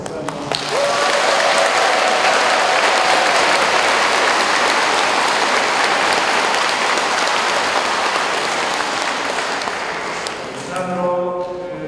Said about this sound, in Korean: 우리 봉사자들 위해서도 박수 한번